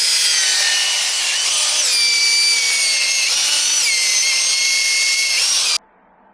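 A power drill whines continuously and loudly up close while working on a Volvo V70 front wheel bearing, its pitch shifting slightly as it grinds, then cuts off abruptly near the end.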